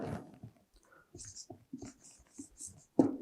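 Pen or chalk scratches out another sentence in short, quiet strokes with pauses between them, close and soft, and a few faint murmurs around them.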